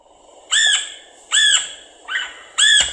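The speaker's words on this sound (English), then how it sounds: "Red-headed woodpecker." Red-headed woodpecker giving wild yelping calls, four harsh, rising squawks spaced about a second apart, clear and close against a quiet background.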